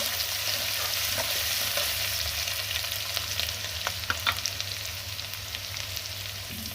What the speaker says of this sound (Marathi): मला लसूण छान तेलावर परतून घ्यायचं